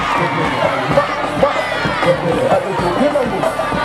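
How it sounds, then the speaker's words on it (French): A crowd cheers and shouts loudly at a festive gathering, lively overlapping voices and whoops with bursts of clapping, sustained and close throughout. "On applaudit. On applaudit Plateau. On encourage les amis"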